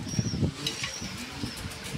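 Fancy pigeons of an imported bloodline, show-type birds, flap their wings in short bursts alongside soft low cooing, close and fairly steady throughout.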